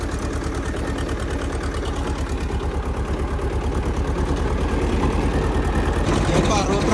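A farm tractor's diesel engine runs at a steady idle with a fast, even chugging pulse, loud and close, growing slightly louder toward the end.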